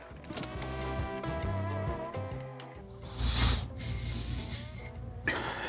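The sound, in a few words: water rinsing ground-off steel from a sharpening stone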